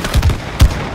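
Gunshots in the video game It Takes Two fire at a target to lift it: a quick pair of punchy shots, a short pause, then a third louder shot, close and sharp.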